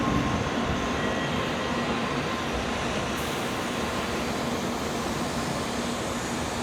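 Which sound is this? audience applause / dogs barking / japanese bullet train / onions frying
japanese bullet train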